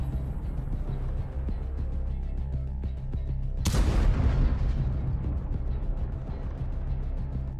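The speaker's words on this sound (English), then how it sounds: "The 3rd Assault Brigade of the Armed Forces of Ukraine destroyed the building housing Russian soldiers in the Kursk region with an M1 Abrams tank." An M1 Abrams tank fires on a building housing soldiers in the Kursk region during combat, one sharp, loud blast over steady background rumble, followed by a fading roll of debris and echo.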